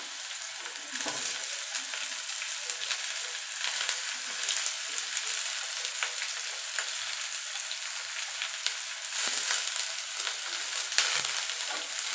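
Potato pieces and bottle gourd peel fry in hot oil after tempering, a loud, continuous crackling sizzle with occasional stirring scrapes and no voices.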